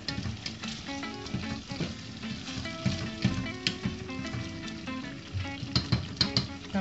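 Chicken pieces sizzle and fry in a pan over high heat, a steady dense crackle with scattered sharper pops, close and fairly loud throughout, with no talking.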